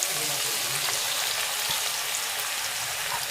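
Cumin seeds and chopped onions sizzle in hot oil in a wok, a steady close crackling hiss that runs unbroken throughout.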